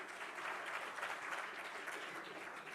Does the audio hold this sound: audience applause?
yes